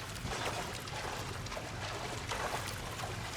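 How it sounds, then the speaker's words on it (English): Rising floodwater in L.A. Noire, a continuous low, hissing rush of water that stays even and fairly quiet throughout. "The water's rising."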